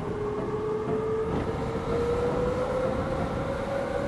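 Steady rumble of an electric commuter train on the Chuo-Sobu Line local service in the Densha de GO! video game, with a rising motor whine climbing slowly in pitch over continuous track noise.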